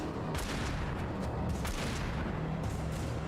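Shotgun blasts in the video game Alan Wake, a few dull booming shots fired in quick succession over constant game noise.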